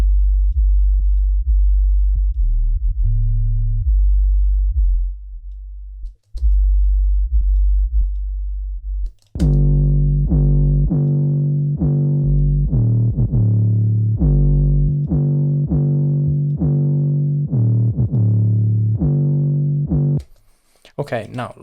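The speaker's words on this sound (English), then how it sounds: "Okay, now let's listen to how the steep slope sounds." 808 bass passed through an Iceberg Audio Sub Cut filter set to its steep slope: a low sustained bassline first plays alone, then a punchy repeating melodic layer enters in a steady pulse, loud and upfront throughout.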